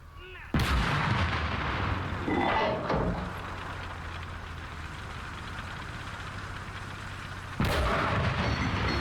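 Gunfire from a Cold War battle between Soviet and Chinese forces in a war video game: two loud, sudden artillery-like blasts several seconds apart, with rumbling battle noise and engine drone filling the gap between them.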